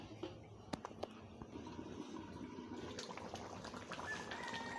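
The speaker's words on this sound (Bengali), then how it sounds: "পুরো ঝোলের পানিটা ফুটে গেছে, দেখতেই পাচ্ছ।" Broth of a rui fish and potato curry bubbling at a steady boil in a covered pot, a soft continuous simmering hiss with scattered small pops and clicks, faint and close, with no talking.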